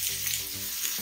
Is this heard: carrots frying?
yes